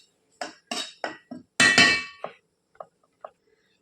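Grated coconut is moved into another metal cooking vessel with a series of sharp metallic clanks and clinks, a handful of loud knocks early on and a few lighter taps trailing off.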